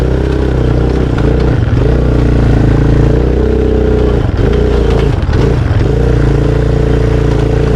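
Motorcycle ridden carefully over rough rutted ground in the mines and meadows terrain, a loud close engine drone that rises and dips with throttle, with clattering jolts from the bumps.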